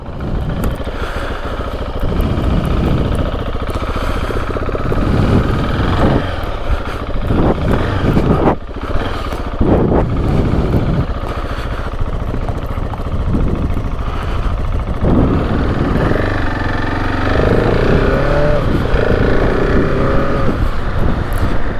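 Engine of a 2021 KTM 690 Enduro R motorcycle being ridden, a loud, continuous single-cylinder drone rising and falling with throttle and gear changes over about twenty seconds.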